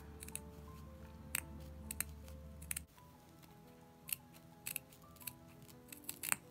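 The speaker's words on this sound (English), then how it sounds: "You just want to literally snip away at the backing fabric" Small scissors make a series of tiny, sharp snips through the backing fabric of a handmade mini hedgehog doll, scattered irregular clicks at close range against a quiet background.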